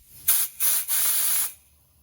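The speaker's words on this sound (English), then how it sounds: "I'm going to blow some air through this nozzle right here and hopefully break all that rust loose here" Compressed air from an air compressor blasting through a rusty nozzle on a Chinese scooter stored for seven years: three sharp, loud hissing bursts, the last one held about a second, then a quick drop to quiet.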